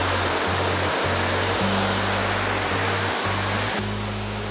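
A natural waterfall spilling over at Sanjeong Lake when the water runs high, a loud continuous rushing roar filling the scene without talk.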